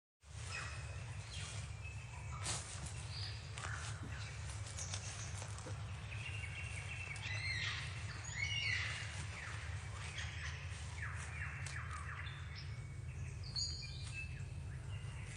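A lyrebird, a mimic bird, sings a varied stream of calls, whistles and chirps, fairly close and continuous over a steady low background hum with no talking.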